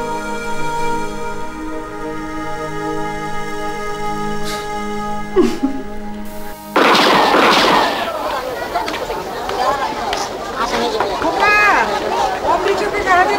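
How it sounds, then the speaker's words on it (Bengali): Music plays, then a sudden loud gunshot bursts out, followed by a noisy commotion with voices crying out. "গুলি করেছে।"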